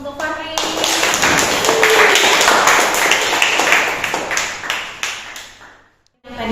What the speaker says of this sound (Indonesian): boleh beri aplaus untuk Fahri